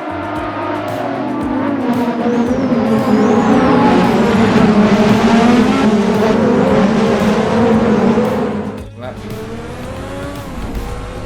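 A 1986 Formula One race car in a sim racing game screams loudly and close throughout, its engine revving and shifting through gears at a race start with other cars around, tire squeal mixed in, before a brief dip near the end.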